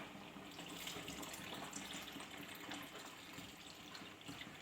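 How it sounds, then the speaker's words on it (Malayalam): Coconut milk pours into boiling wheat kheer, giving a quiet, continuous splashing gush with no talk. "അതിലേക്ക് നമുക്ക് തേങ്ങാപ്പാൽ ഒഴിച്ചു കൊടുക്കാം"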